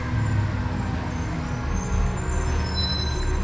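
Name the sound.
garbage truck with air brakes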